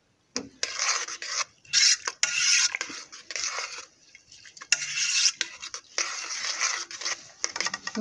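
A spoon scrapes and rasps against the bottom of a pot while Moroccan lentils with tomato paste and water are stirred, close-up bursts of gritty rubbing strokes separated by short pauses.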